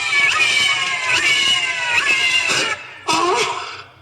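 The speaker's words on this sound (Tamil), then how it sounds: "நான் குடிக்க வேண்டிய பால பூனை குடிச்சுக்கிட்டு இருக்கு" A cat meows repeatedly while lapping milk, a series of close, fairly loud cries with brief pauses and one sharper final meow.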